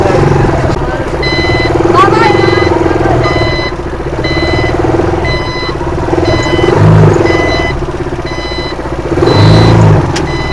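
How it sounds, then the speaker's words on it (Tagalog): A brand-new Rusi Chariot 175 passenger vehicle runs with a loud engine while evenly spaced reversing beeps repeat about once a second, and people speak briefly close by. "Ingay pala ng kotse pag..."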